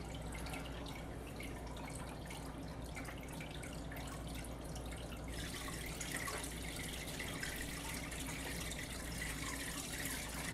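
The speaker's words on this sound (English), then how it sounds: "you're going to start the siphon" An Aqueon siphon gravel vac drains aquarium water in a steady, continuous trickling rush, close and even throughout, growing slightly fuller partway through.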